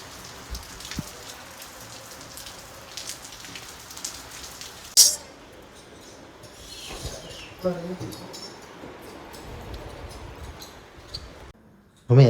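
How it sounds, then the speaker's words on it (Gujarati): Light rain beginning to fall at home, a soft steady patter on surfaces throughout, with a few sharp louder knocks and faint birds chirping in the background. "વરસાદ ધીમે ધીમે શરૂ થઈ ગયો છે."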